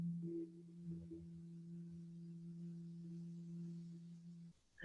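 A soft, steady hum on an M sound held in the throat with closed lips, low and continuous for several seconds before stopping near the end.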